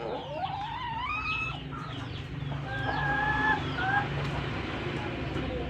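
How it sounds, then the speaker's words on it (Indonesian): Chickens cluck in short, scattered calls while a rooster crows in rising stretched calls, all over a steady farmyard background, with no one speaking. "Ayam ini adalah binatang yang tidak asing lagi bagi kita di Indonesia"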